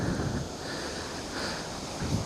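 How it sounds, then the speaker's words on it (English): A low-flow waterfall on the Conasauga River at Praters Mill gives a steady, broad rushing hiss, with wind buffeting the microphone. "It's a nice waterfall."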